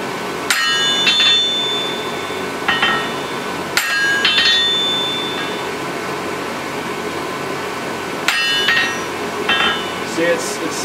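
Hammer blows on hot steel while forging a claw hammer, a few sharp ringing strikes spaced seconds apart, each followed by lighter rebound taps, over a steady forge roar with people talking.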